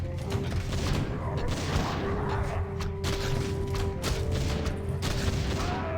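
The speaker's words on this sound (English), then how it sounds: "I'm raise a scout ahead so that the mortar team can start shooting" Mortar team fire in Warcraft 3, steady booms and explosions over continuous battle noise, fairly loud and close throughout.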